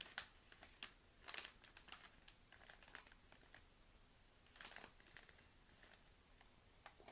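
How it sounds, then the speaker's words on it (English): Soft crinkling and rustling of newspaper pages as the business and tech section is handled, quiet and close, with scattered crisp bursts of paper noise and a few louder crumples over a faint background. "I absolutely love the sound of the paper."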